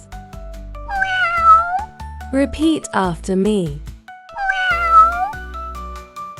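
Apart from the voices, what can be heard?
cat meowing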